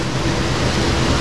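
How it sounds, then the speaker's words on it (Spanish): A waterfall in the Mantaro Valley near Sincos, Jauja, roars as a loud, steady broadband wash of falling water close by, unbroken and without any voices over it. "Es una cascada."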